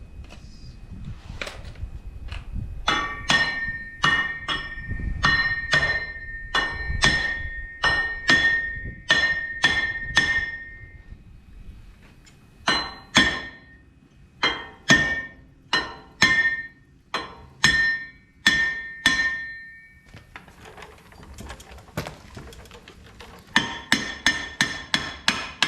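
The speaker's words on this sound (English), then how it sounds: "You just use a hammer, you just cover it up." Repeated hammer blows ring out while a front brake rotor is being removed from a Ford F350 during bearing and seal repair, with sharp metallic strikes in irregular bursts and short pauses between them.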